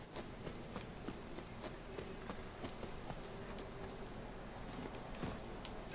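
Roach, a horse in the video game Witcher 3: Wild Hunt, gallops with steady, rapid hoof clip-clops at a moderate, unbroken distance over a low background hum.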